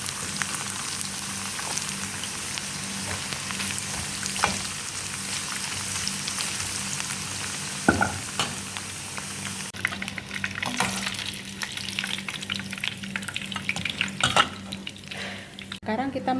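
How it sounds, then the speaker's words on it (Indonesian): Carrots frying in oil in a pan while nasi maqlubah, an Arab rice dish, is prepared: a steady close sizzle throughout with a few clinks of utensils against the pan. "Penggorengan yang kedua, kita masukin wortel."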